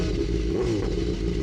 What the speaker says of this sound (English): The background noise you can hear is the BMW on its not very subtle arrow exhaust.